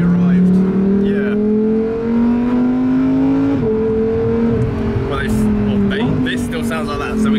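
Lamborghini Huracan STO engine holding a loud, steady drone with slowly rising pitch and a couple of brief shifts, continuous throughout, with people talking over it.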